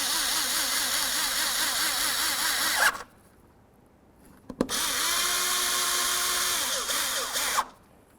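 A power screwdriver snugs down screws on a replacement mass air flow sensor on a 2007-12 Nissan Altima, whirring in two runs of about three seconds each with a short quiet pause between and a rising pitch as each screw tightens.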